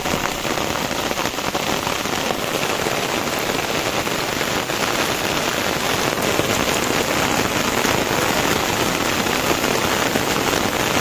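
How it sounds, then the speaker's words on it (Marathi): Steady rain pours over rice paddy fields in the Konkan countryside, a dense, even hiss of drops on water and wet ground, loud and continuous for the whole stretch, with no voices. "काम उरकल्यानंतर पाऊस आलाय"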